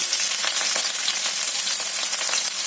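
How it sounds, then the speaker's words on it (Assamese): Onion and green chilli hit hot oil in a wok, setting off a loud, dense, unbroken sizzle that holds steady throughout with no voices. "তেলখিনি গৰম হোৱাৰ লগে লগে ইয়াত মই পিঁয়াজ আৰু জলকীয়াকেইটা দি দিম।"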